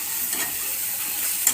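Stuffed green chillies for a bharwa mirchi curry fry in a pan, giving a close, continuous hissing sizzle with faint stirring movement and no voices.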